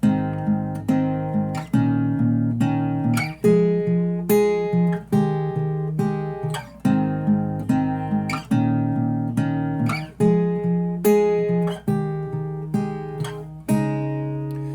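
An acoustic guitar plays a chord progression, steady strummed and plucked chords with a warm low end, close and alone without singing or talk.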